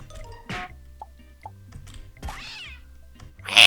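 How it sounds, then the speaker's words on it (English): Cat meows used as sound effects in a homemade video game, several separate meows spread over a few seconds among soft game noises and drips, ending on a louder burst. "I don't know why I put cat sounds."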